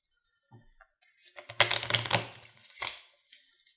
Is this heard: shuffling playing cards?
yes